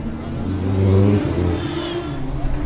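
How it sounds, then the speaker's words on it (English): A Formula Student race car engine revs and whirs nearby on an autocross course, the pitch rising then easing as it rounds a horseshoe corner, loud and continuous. "I hear car number 107 as they come round the horseshoe down to the final straight"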